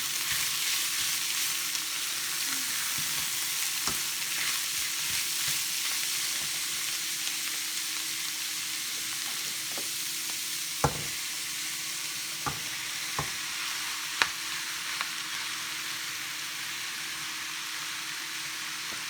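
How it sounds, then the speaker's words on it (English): Jackfruit with shredded carrots and other vegetables sizzles steadily in a hot pan, with a continuous loud frying hiss broken by a few sharp clacks of a utensil stirring. "We're also going to just mix it up and add the jackfruit while we're at it."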